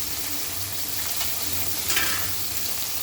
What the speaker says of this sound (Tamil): கருவேப்பிலை, பச்சை மிளகா போட்டுக்கோங்க